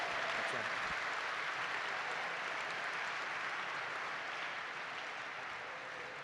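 A gala audience applauds at length for Jim Kavanaugh, a broad, sustained roar of clapping that slowly eases toward the end.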